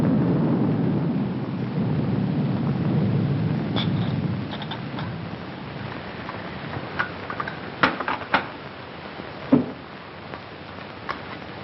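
A thunderstorm with rain: a low, heavy rumble of thunder rolls under steady rainfall, then fades into softer rain broken by a few sharp, close crackles and claps.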